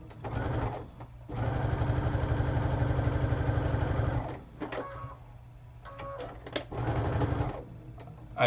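A sewing machine stitches quilt seams in loud, rapid mechanical bursts, a short run, then a long sustained one, a pause with small clicks and handling noise, and another burst near the end.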